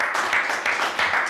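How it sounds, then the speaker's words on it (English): Short burst of studio audience applause greeting a newly introduced producer on a late-night breakfast TV show, dense broadband clapping that swells and fades in waves across the clip. "Round of applause for him."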